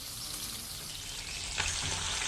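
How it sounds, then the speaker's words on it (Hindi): Fish fries in a pan of hot oil for a fish curry, giving a steady, dense sizzle with crackling that grows slightly louder near the end, with no talk over it. "अब इसकी दूसरी साइड को भी गोल्डन ब्राउन होने देना।"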